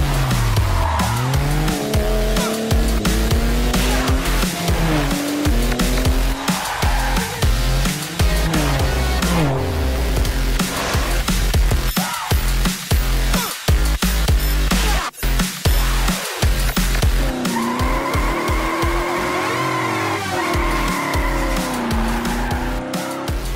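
Race cars in the video game World of Speed roar and skid continuously, with long, loud tire squeals sliding up and down in pitch over droning engines, and no voices.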